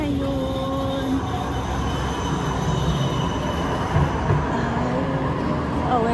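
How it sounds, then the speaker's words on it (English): A tram rolls through Amsterdam with a steady rumble of wheels on rails and faint squealing tones, heard up close for several seconds without talk. "We're taking the tram."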